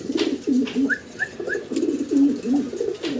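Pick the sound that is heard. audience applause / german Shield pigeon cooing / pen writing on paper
german Shield pigeon cooing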